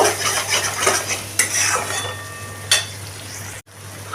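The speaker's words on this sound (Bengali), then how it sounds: "দিয়ে আবারও এটাকে আমি ভালো করে কষিয়ে নেব" Spices with ground cumin are stir-fried in a pan, giving a close run of repeated scraping and clinking utensil strokes with a soft sizzle underneath and a brief cut near the end.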